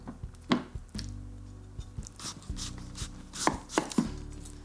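A knife peels the skin off a starchy vegetable on a board, making a run of close, uneven cuts and scrapes with short pauses between them.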